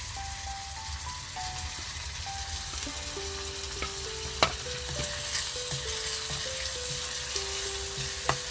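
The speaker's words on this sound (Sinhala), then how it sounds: "සුදු ලුණු ඒකට මේ ටික දාගන්නවා. වගේම රම්පේ කරපිංචා, කුරුඳු, මේ ඔක්කොම ටික මම මේ විදිහට දාගන්නවා." Garlic, rampe, curry leaves and cinnamon tempering in hot oil for a Sri Lankan breadfruit curry, a steady close sizzle with occasional sharp pops and light stirring, no voices.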